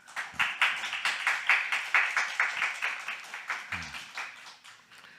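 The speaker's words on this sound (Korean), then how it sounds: "우리 박수로 환영하겠습니다" A church congregation at a Wednesday service claps in welcome for a visiting couple, a rhythmic run of roughly eighteen evenly spaced, fairly close claps that taper off near the end.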